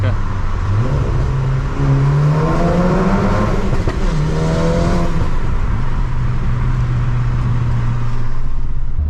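An Audi S1 engine revs hard and climbs, then drops on a downshift to second gear with a burst of revving, loud and close, running steadily throughout.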